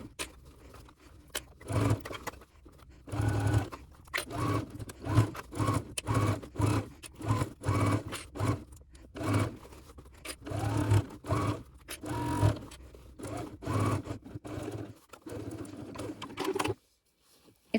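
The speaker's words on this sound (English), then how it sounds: "we will head over to the machine and we're sewing just around the whole top here." A sewing machine stitches around the whole top of a crossbody bag in quick bursts of close, steady needle chatter, broken by short pauses and a silent stretch near the end.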